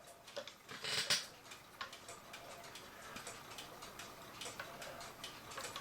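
A 1940 LUX cuckoo clock ticks in a soft, regular rhythm, faint and close, with a brief brighter clatter near the start and light handling noise.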